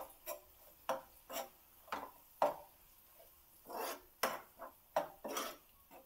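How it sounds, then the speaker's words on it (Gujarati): A spoon scrapes and stirs a methi and tomato curry mixture in a pan, making soft rhythmic rubbing and tapping strokes about every half second, quiet and close. "આવી રીતે હવે એને બધું મિક્સ કરી લેવાનું છે"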